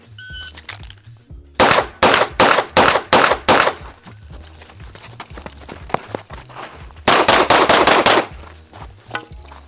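Rapid pistol shots from an OA Defense 2311 Pro 5-inch, fired in two loud, close bursts of sharp cracks, about six in the first string and five in the second, with a quieter stretch between.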